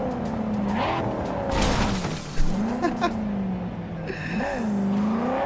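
Screeching tires and a revving engine from a car in Cyberpunk 2077, sliding and skidding with a sharp impact thud midway, then a squeal and engine whine under a wavering tone.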